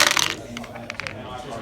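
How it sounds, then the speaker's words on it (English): Dice rattle and tumble across a tabletop during a wargame, a loud close clatter at the start that settles into a few scattered knocks as they come to rest. "All right, so I'll roll my dice now."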